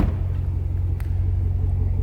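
Throaty exhaust rumble from a 2010 Chevrolet Camaro SS with a 6.2-liter 426-horsepower V8, a steady deep idle pulsing loud and close throughout with no talk.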